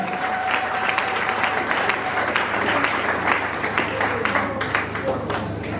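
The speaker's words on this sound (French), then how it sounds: "Est-ce qu'on peut acclamer très fort pour vous-même" A wedding audience applauds and cheers for the couple, dense steady clapping from a crowd throughout, with a voice heard over the applause.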